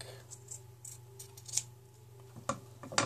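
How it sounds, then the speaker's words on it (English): Scissors trim the extra fabric on a handmade whipstitch teddy bear, making a few quiet, scattered snips and clicks against a low steady hum. "So you just trim away the extra fabric."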